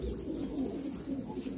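Soft, low cooing of pigeons repeats in a steady rhythm, somewhat muffled against a dull background.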